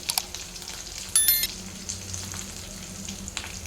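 Shredded cabbage, onion, green chilli and carrot sizzle and crackle in a pan for vegetable poha. A few brief metallic clinks of stirring sit over a steady, close frying hiss, with no talk.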